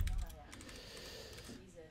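Fingers type Python code on a computer keyboard, producing a quick run of soft, rapid key clicks at close range with a low room hum underneath.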